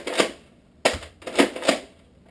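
Nerf Vortex Pyragon blaster slam firing discs, four sharp mechanical pops with the first standing alone and three coming quickly together, close and fairly loud with no talking.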